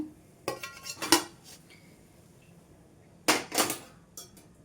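Fried wheat-flour appams are set onto a plate, giving a few clattering clinks of dish and utensil, two short bursts separated by a quiet pause, close and moderately loud.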